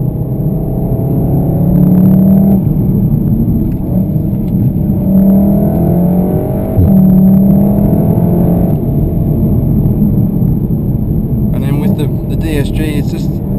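A 2015 Volkswagen Golf R Mk7 with DSG gearbox is driven hard through corners, its engine droning and rising in pitch with revs inside the cabin while a voice speaks over it.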